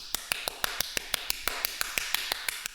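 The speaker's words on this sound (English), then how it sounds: "I was clapping so hard at your little song" A steady series of sharp hand claps, about fifteen in under three seconds, close and evenly paced with no talking.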